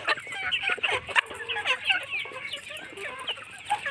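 Layer hens cluck and squawk excitedly while crowding to eat khichuri, a dense overlapping chorus of busy clucks close by with no talk.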